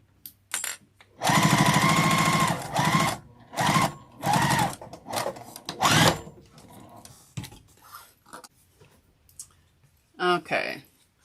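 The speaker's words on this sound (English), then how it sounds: "sew this right sides together. You're going to backstitch." A sewing machine stitches a zipper pouch, fabric placed right sides together, with backstitching: loud, rapid mechanical bursts of varying length separated by pauses, with someone talking between runs.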